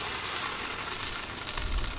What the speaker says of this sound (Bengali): এবার এই ফুটন্ত জলেই চিচিঙ্গাগুলি ঢেলে দেবো।